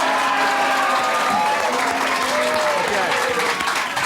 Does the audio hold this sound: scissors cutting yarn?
no